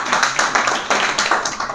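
An audience claps for a group at a spoken-English class activity, a short burst of fairly loud, even clapping.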